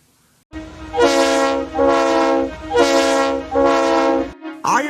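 Four loud, long horn-like toots in a steady sequence, a rich harmonic whistle from a steam locomotive, close and clear, ending abruptly.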